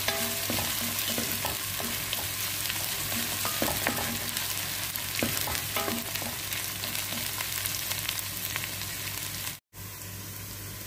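Garlic and ginger sizzle steadily in a hot pan while being stirred, with scraping strokes and small pops throughout and a brief dropout near the end.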